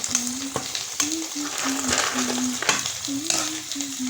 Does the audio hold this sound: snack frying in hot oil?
yes